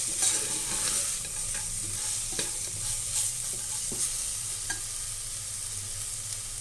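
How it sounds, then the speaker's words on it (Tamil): Turmeric powder fries in hot oil and is stirred in the pan: a steady close sizzle runs throughout, broken by occasional light scrapes and taps of the stirring spoon, with no talking. "இதை நல்லா நம்ம கிளறி விட்டுக்கலாம். இது இந்த எண்ணெயிலே கொஞ்சம் லைட்டாக வதங்கணும்."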